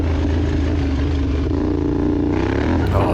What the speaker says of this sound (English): Oh, that engine sounds so good.